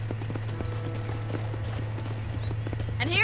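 Horse hooves clip-clop at a walk while riding around a ranch in the Red Dead Redemption video game, soft and regular under a low background hum, with a brief neigh at the end.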